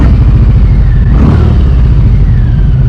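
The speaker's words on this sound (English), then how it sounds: "So put the revs up, then come down, and it clunked into gear." Harley-Davidson motorcycle engine idling with a steady low rumble, revs briefly rising and falling near the middle before settling back to a continuous loud idle; no distinct gear clunk stands out.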